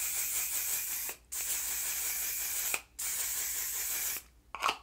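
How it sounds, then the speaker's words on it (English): Makeup setting spray hisses out in three short bursts close by, each lasting about one to two seconds with brief pauses between, followed by a soft rustle. "I'm just going to use my one size setting spray."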